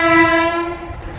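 A loud, sustained train horn blares in Siliguri, then fades into rumbling rail noise.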